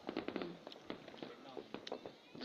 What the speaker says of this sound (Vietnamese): Năm nay Nam Định cũng được bắn pháo hoa.